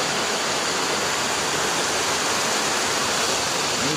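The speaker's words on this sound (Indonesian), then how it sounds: "Iya tuh aliran sungai." A river stream in a valley flowing hard, a dense continuous roar like a small waterfall, steady and close for the whole stretch with no voices.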